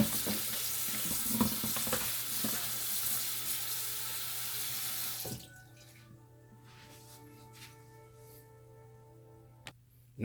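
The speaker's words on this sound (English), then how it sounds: "we're gonna rinse this off right here. We're gonna rinse this off. Put it in our strainer." Turkey wings rinsed in a strainer under a running kitchen tap, a loud steady hiss of splashing water for about five seconds, then the flow stops, leaving quiet drips and faint clatter.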